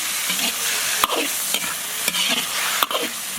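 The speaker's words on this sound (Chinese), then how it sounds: "鱼骨头煸一煸" Fish bones stir-fried in hot oil with scallion, ginger, garlic and small chili peppers for a spicy carp dish, a steady close sizzle broken by sharp scrapes and knocks of a spatula against the wok, with no talking.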